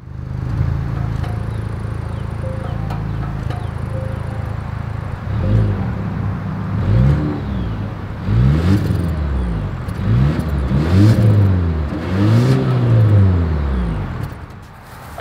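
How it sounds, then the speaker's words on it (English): A 2024 Volvo XC60 SUV engine idles with a steady low rumble, then gets revved several times in short, rising blips, each swelling loudly through the exhaust before dropping back. "As always, here is that exhaust clip."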